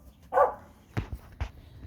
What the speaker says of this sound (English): Of course the dog is going off.